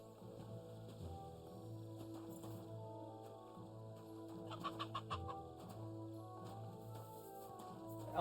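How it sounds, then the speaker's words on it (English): A chicken clucks repeatedly at close range in the video game Kingdom Come Deliverance II, with bursts of rapid clucking over a steady low background hum. "Dude, the chicken just walked through the freaking"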